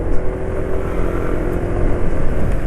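A motorcycle engine with degraded oil additives runs rough and harsh, a steady close idle-like drone with uneven low rumble throughout and no talk.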